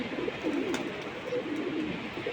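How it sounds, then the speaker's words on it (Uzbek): Birds such as robins and magpies call from close by, their soft, repeated cooing-like notes running steadily and evenly through the whole stretch with no one talking. "Mana shu qushlar mana qizil to'sh, mallavosh, qizil hakka, qora hakka, chil."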